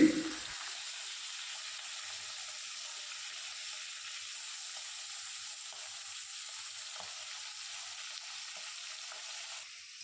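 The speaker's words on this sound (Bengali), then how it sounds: "দেখতেই পাচ্ছেন সব মাছগুলো আমাদের কড়া করে ভাজা হয়ে গেছে" Pieces of hilsa fish fry crisp in a pan with an even, soft sizzling hiss that holds steady throughout, faint and close, with occasional light crackles.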